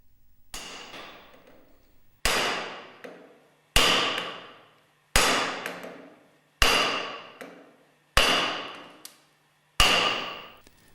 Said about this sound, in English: Place on a hard PVC mandrel and lightly hammer the clutch driver downwards.